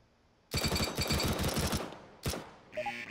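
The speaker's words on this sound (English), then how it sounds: "That was not firing in short controlled bursts" Gunfire in Counter-Strike: Global Offensive on a practice course: a loud, close burst of rapid automatic shots, then a single shot, followed by a few short electronic beeps.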